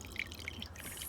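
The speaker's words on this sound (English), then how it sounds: "I've squeezed out the water from 4 sort of balls of newspaper." Water drips from newspaper clay pulp squeezed by hand back into a container, a few small, close, separate drops over a faint wet background.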